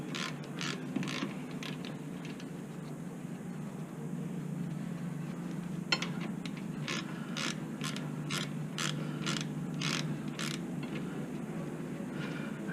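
A Stanley ratchet wrench clicks through its pawl while turning during a rear brake pad change on a Suzuki SX4, faint irregular ratcheting clicks in small bursts over a low steady hum, with no talking.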